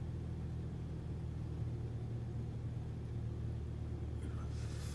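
A Cessna 152 in Microsoft Flight Simulator 2024 drones at a low, steady idle after the throttle is cut, its engine a constant muffled rumble with no revving, heard alone from inside the cockpit.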